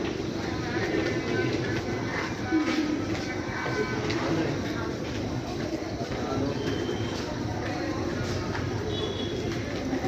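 A train at a railway station in India, steady rumble and rolling noise with birds cooing nearby, while people talk over it throughout.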